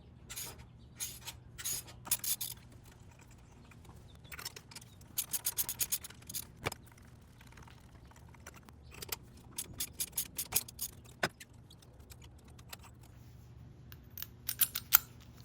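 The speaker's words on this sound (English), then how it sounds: "Next, remove the old spark plugs." Small metallic ratcheting and scraping of a socket wrench and tools working loose the old spark plugs in a Toyota Highlander 3.5-litre V6 engine bay, sounding in short, irregular bursts of close clicks and rubs with quiet pauses between.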